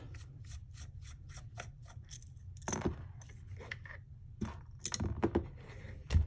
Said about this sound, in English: I'm going to take the MOS rail cover off.